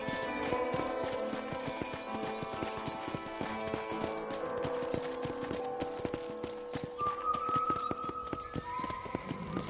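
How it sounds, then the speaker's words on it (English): Horse hooves clip-clop steadily at a trot in the Red Dead Redemption video game while riding toward a ranch, the rhythmic hoofbeats sitting close and clear over a sustained musical score. "I picked out a fine horse for you."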